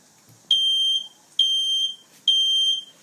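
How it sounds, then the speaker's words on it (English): A home smoke alarm sounds three loud, piercing high beeps, each about half a second long, in an even repeating pattern with short gaps of near silence. "Let the fire alarm keep ringing"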